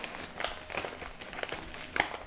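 A plastic bag holding drone electronics crinkles and rustles up close in soft, irregular bursts for a couple of seconds, with no talking.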